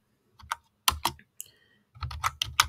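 Keys clacking on a computer keyboard in short bursts of typing separated by pauses, close and fairly quiet.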